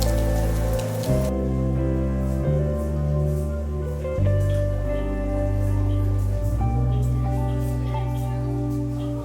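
A heavy downpour in Bali makes a steady hiss that runs the whole time beneath sustained tonal, music-like sounds that shift pitch every few seconds.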